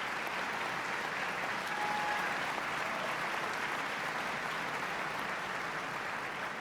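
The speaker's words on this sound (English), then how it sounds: "recognize a little applause from the people that are here tonight?" Steady applause from an audience gathered tonight for a State of the State address in Ohio, honoring the governor's cabinet; even, continuous clapping fills the hall at moderate volume with no voices over it.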